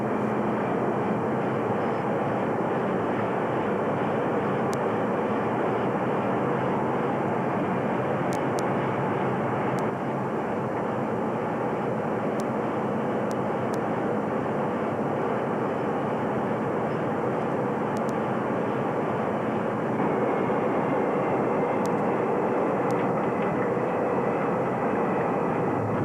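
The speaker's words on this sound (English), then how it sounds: "With the bombers' fuel tanks replenished, the tankers head back to base." Refueling tanker aircraft flying after a bomber refueling exercise, a steady, loud broadband engine drone that holds evenly throughout with no talk.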